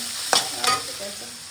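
Vegetables fry in a pan in a home kitchen, a steady close sizzle broken by two sharp scrapes of stirring, with no talk.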